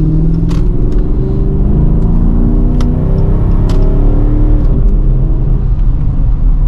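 Dodge Charger R/T AWD V8 engine heard from inside the cabin on a cold night drive, a loud steady low rumble with rising and falling revs and a few faint clicks, with no talking.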